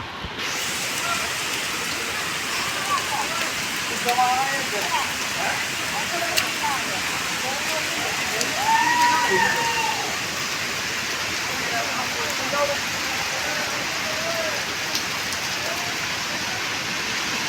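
A steady, broadband rushing roar of falling water at Bheemeshwara waterfalls, continuous and moderately loud, with faint voices and footsteps occasionally rising above it.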